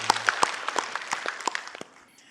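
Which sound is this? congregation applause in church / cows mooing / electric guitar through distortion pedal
congregation applause in church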